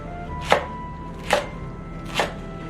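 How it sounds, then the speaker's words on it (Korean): Three crisp knife chops through green onion on a cutting board, evenly spaced about a second apart, close and clear with no talking. "대파는 반으로 절단한 다음에 2cm 간격으로 썰어주세요."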